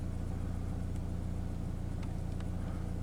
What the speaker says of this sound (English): Car's rumbling.